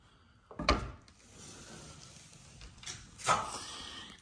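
A plastering trowel dragged down a textured plaster wall, two rasping scrapes with a smooth sustained rub between them, quiet and close, no talking.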